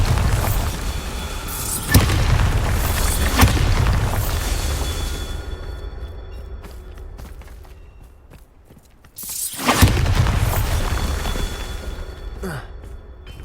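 Heavy booming blasts from the Bombarda spell in Hogwarts Legacy rumble loud and deep, one long roar fading into a quiet stretch before a second sharp blast erupts and rolls on.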